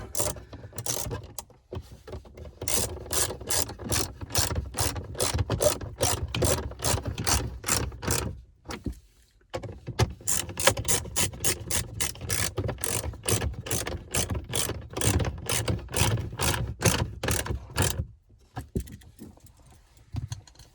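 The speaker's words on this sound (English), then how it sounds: "Line the screws up with the holes, and we'll tighten those screws down." A ratcheting screwdriver tightens screws on a Ford Super Duty phone mount tray, rapid regular clicking bursts in two long runs separated by brief pauses, close and clear.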